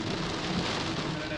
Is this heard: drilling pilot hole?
no